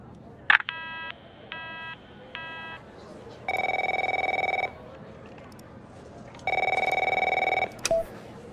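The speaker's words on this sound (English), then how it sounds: "My phone's ringing off the hook here." A telephone ringing in The Operator video game: a few short electronic trill bursts, then two long loud rings separated by a pause, ending in a brief click, with no voices over it.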